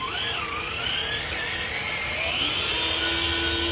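A Traxxas TRX-4 RC crawler truck runs at top speed with a high, whining electric motor and gear noise whose pitch sweeps and wavers over a steady rumble, close and continuous.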